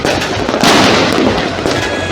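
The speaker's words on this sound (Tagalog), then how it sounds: "So, dyan yung fireworks." Fireworks explode over Quezon City, heard from a distance as a loud, continuous crackling barrage with a heavier burst midway, no voices.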